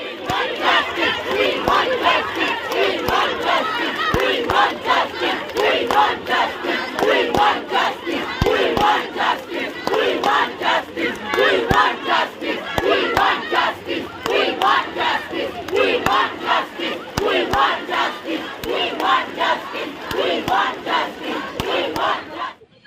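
A large crowd of women protests on the streets of Howrah at night, demanding justice in the RG Kar case, chanting slogans in loud rhythmic bursts with cheering between lines.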